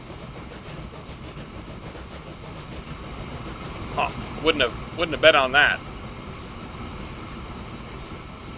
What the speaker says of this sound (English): Oh, there's the train waiting for us.